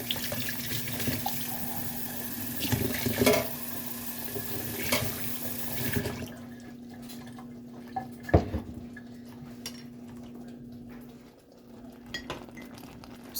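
Kitchen tap running into a sink while fudge is made, a steady close rush of water with clinks of dishes and utensils, then the flow shuts off and scattered drips and small clatters follow.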